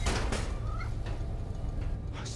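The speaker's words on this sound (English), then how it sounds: "Just need to find Tails' cat" A cat's meow in the Spider-Man Miles Morales video game, a faint brief call buried under a loud, constant game soundscape of rumbling noise.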